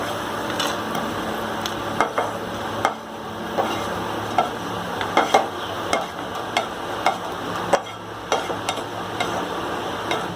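Raisins fry in hot oil in a pan for sheer khurma, a steady sizzle under repeated scraping taps of a stirring spoon, close and continuous with no talking.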